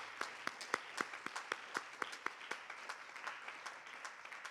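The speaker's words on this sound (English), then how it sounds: "give them a round of applause." Sparse applause at a graduation ceremony, individual hand claps ringing out in a loose irregular rhythm over a quiet room, faint and distant with no talking.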